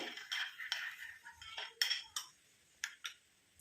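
A spoon mixing a tomato face pack in a bowl, a quiet close series of scrapes and light clinks against the bowl in an uneven rhythm, with no talking.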